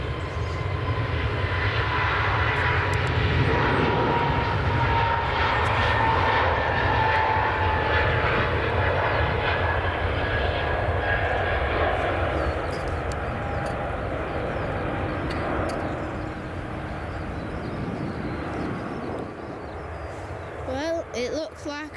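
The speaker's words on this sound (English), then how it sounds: "And the 7th EasyJet is an A320," An EasyJet Airbus A320 jet airliner at Manchester Airport gives a steady, loud engine roar that holds for the whole stretch, with a low rumble and a broad hiss and a slight fade near the end. Voices can be heard faintly beneath it.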